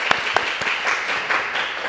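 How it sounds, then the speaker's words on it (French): A live audience breaks into applause for a speaker, a loud, close crowd of clapping hands with a few sharper claps standing out at the start, continuing without talk. "Merci d'applaudir Ozias."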